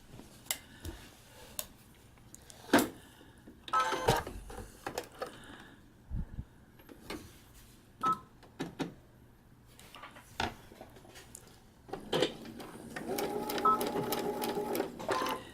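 Sewing machine stitching a paper-pieced quilt block with white thread on black fabric, running in short bursts of rapid needle chatter separated by pauses and small clicks, ending with a longer sustained run.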